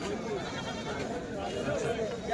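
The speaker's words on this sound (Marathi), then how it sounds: "मुकीम हे बघा बकरी एकदम क्वालिटी" A goat bleats a couple of times amid crowd chatter and voices at a busy rural goat market.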